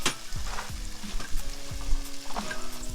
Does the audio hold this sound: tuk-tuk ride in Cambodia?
no